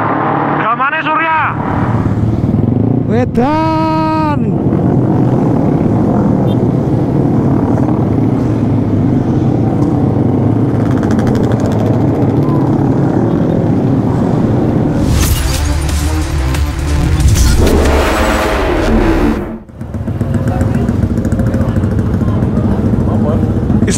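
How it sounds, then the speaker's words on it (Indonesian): Large group of motorcycles with loud open exhausts riding together after sahur in Yogyakarta, a constant engine drone with several sharp revving bursts, under and between occasional talk. "Mayoritas rombongan menggunakan knalpot brong tanpa spion."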